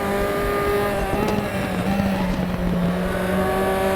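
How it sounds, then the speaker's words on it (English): Formula 4 and Zonda race cars roar around the Macau street circuit in RaceRoom Racing Experience, a dense, loud wall of engine noise with rising and falling revs from several cars racing close together. "Faster cars behind you. They're racing for position."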